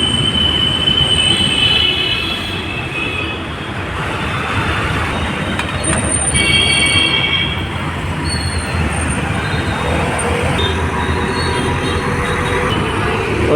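A train rumbles through Tadepalli railway station with steady wheel noise close by and sharp, high metallic squeals rising and fading over it throughout.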